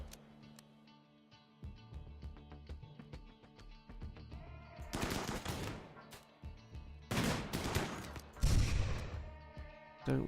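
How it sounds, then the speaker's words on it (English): Rapid bursts of video game gunfire as attackers shoot at a turret in Rimworld, starting sparse and growing into dense, loud volleys with heavy impacts toward the end. "they're shooting at the turret"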